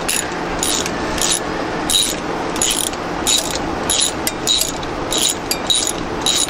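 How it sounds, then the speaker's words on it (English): A Sawzall reciprocating saw cuts through a rusty part on a VW bus with a 1700cc Type-4 engine, making rhythmic rasping strokes in regular bursts with metallic scraping, close and fairly loud. "Sawzall!"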